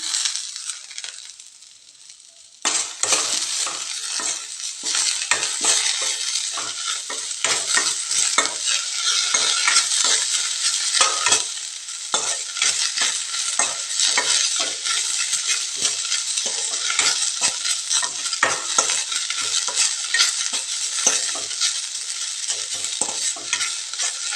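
Mint leaves sizzle in a hot pan for chutney while a spoon stirs them, giving steady crackling hiss with frequent scraping and rustling strokes, close and continuous after a quiet start.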